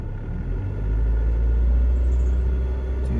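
A diesel car engine running at steady idle, a deep continuous rumble with low harmonics, close and fairly loud, with a slight swell in level partway through.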